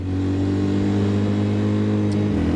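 A 2024 Kawasaki KLX 300 dual sport motorcycle on knobby Dunlop 605 tires riding on-road, with a loud, steady mid-pitched engine drone and wind rush heard from the rider's position, dropping slightly near the end.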